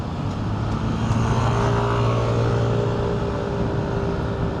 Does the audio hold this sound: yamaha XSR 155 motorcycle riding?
yes